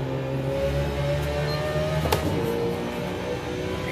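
A race car engine in iRacing drones steadily as it accelerates, with a brief sharp blip around a gear change; the engine stays loud and continuous with no talk.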